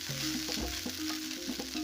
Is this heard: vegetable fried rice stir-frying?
yes